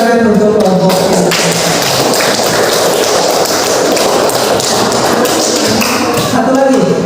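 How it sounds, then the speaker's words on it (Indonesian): Applause for a student group in a classroom fills the space, a loud, steady wash of clapping with a few sharper taps standing out, and voices mixed in throughout. "silakan berikan tepuk tangan untuk kelompok ini"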